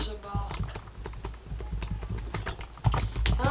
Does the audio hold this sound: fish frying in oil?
no